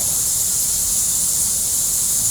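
A steady, dense hiss with a fine rustling, skittering texture, constant and unbroken throughout, from a swarm of cockroaches moving in a hot cave.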